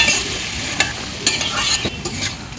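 Nate greens (amaranth leaves) being stir-fried with a cooked-down spice paste in a pan for a rohu fish curry, with steady close sizzling and repeated scraping strokes of a spatula, no voices.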